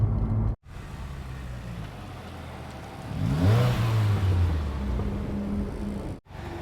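Steady road and engine rumble inside a Subaru WRX with a Tomei Expreme Ti dual muffler at highway speed, with a rising rev midway, continuous and moderately loud.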